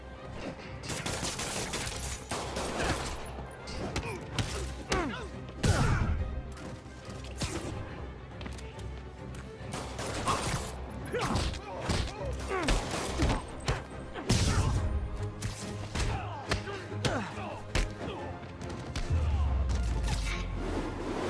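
Dense bursts of gunfire and crashing impacts fill a Spider-Man video game fight scene, with rapid volleys and thuds coming almost continuously while voices shout in between.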